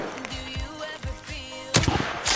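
A burst of gunfire in the Escape from Tarkov video game: several sharp, loud shots in an uneven rhythm, some close together, ending in heavier cracks with no talking.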